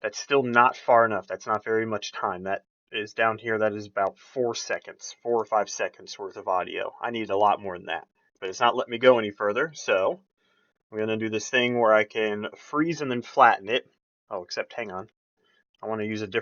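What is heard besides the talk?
None of the usual background noises is heard.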